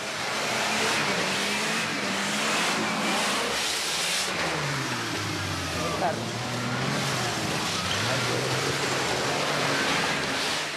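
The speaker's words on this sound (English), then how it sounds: "As the trucks follow one another, the road becomes impassable." Heavy trucks grind one after another along a steep mountain road in Colombia's valleys, engines droning loudly and continuously with rising and falling pitch as they labour, while voices speak over the noise.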